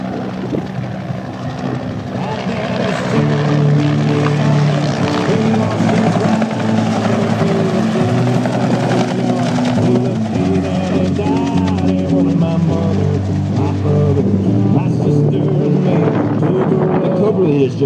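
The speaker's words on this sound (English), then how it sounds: "The two helicopters in tight formation will fly down the crowd line from your right to your left." Two Sky Soldiers helicopters fly in tight formation down the crowd line at the 2013 Auburn-Opelika Air Show, their rotors producing a loud, steady, throbbing drone that swells as they pass.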